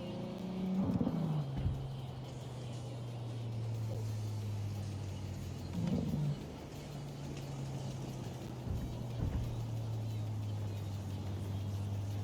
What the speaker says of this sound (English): Spotting this Barges patrol vehicle near the entrance gate was a stroke of luck.